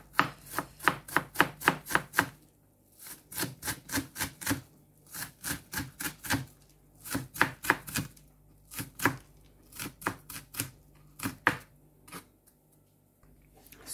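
An onion being chopped into small pieces on a board, rapid bursts of crisp knife strikes in quick runs separated by short pauses, close and loud with no talk.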